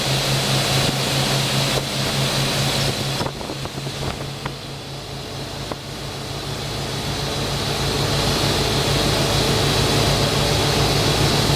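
A Wellcraft 3300 Martinique cruiser with twin 7.4 MPI MerCruiser engines on drives, running at cruising speed: a steady, loud engine drone with water rush throughout, no talking.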